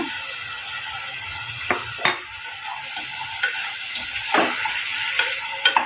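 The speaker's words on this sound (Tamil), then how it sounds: "லைட்டாக வதக்கி விட்டுக்கோங்க" Tomatoes and green chillies sauté in hot oil inside a pressure cooker, giving a steady sizzling hiss throughout with a few soft stirring scrapes and clicks, close and moderately loud, with no talking.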